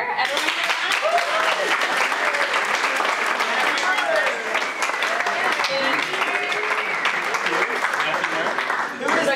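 A live improv audience applauds a special guest, a dense, steady wash of clapping and some cheering that fills the room throughout, with voices mixed in.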